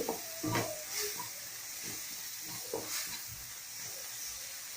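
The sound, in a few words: tomatoes and masala sautéing in a pan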